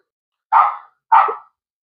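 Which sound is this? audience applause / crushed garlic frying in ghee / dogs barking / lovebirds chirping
dogs barking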